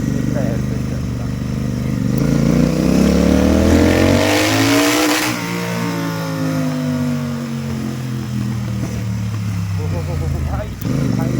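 A Royal Enfield Continental GT650 motorcycle with its exhaust removed revs hard up to maximum RPM, its loud raw engine note rising steadily and then falling away. Background talk is heard throughout.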